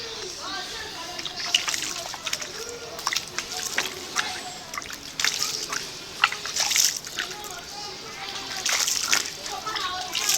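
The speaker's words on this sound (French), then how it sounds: "je verse cette abondante quantité d'eau" Water poured generously onto a newly planted moringa seedling in a soil basin, with uneven splashes, sloshing and trickles throughout while someone talks over it.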